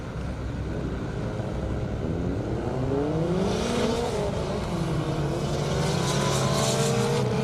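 Drag racing cars roar and accelerate down an airport strip at a 200+ mph event, engines rising in pitch through the gears, loud and steady, with a second car's note joining and climbing partway through.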